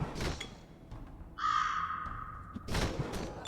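A single drawn-out crow caw sounds in the video game Halls of Torment, bright and clear, framed by faint noisy bursts before and after.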